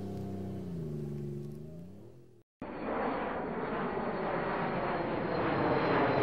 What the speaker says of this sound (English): Military transport aircraft.